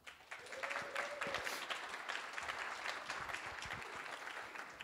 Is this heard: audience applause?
yes